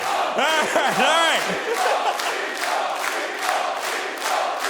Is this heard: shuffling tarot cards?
no